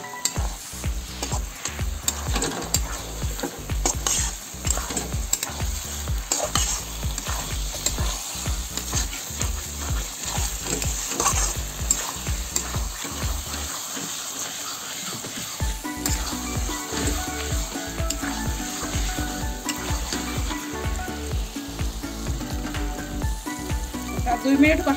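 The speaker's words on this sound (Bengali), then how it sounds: "বেগুন কটা অল্প একটু ওই করে কষাই নেবো।" Eggplant pieces sautéing with potatoes in a pan, a continuous sizzle with rhythmic scraping and stirring strokes throughout, loud and close.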